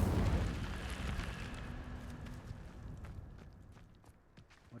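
A fiery whoosh from a wizard casting the Incendio fire spell, a loud rumbling burst at the start that slowly fades and thins into a crackling tail.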